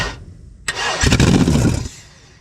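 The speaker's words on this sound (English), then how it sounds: "So let's get it cranking for a start." A Ford Barra engine turning over on the starter, then catching and firing into a loud, ragged run that fades after about a second; close and prominent, with no talk.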